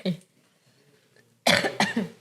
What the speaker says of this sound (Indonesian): Lagi batuk gitu ya